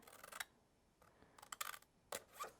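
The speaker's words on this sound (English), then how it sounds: "We're just going to cut this plastic piece" Scissors snip through a small plastic piece for a handmade shaker card, giving a few short, close crisp cuts in separate bursts with quiet gaps between.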